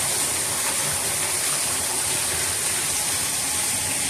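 Heavy rain pours down hard in Las Vegas during a flood, running steadily onto and pooling across a covered backyard patio as a dense, unbroken hiss of falling and flowing water.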